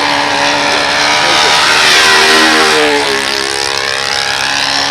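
A four-stroke engine fitted with a pipe drones loudly on an RC P-51 Mustang model airplane, with the steady whine swelling and shifting pitch as the plane passes close by.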